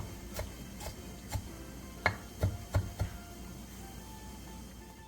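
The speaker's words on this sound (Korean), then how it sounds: "청양고추 1개와 청양홍고추 1개에 길게 칼집을 넣은 뒤 쫑쫑 썰어주세요" A knife chops Cheongyang green and red chili peppers on a board, a handful of sparse, close taps with quiet gaps between them.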